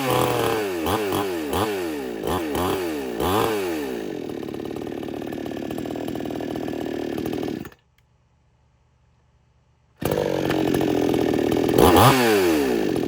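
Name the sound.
electric chainsaw sharpener running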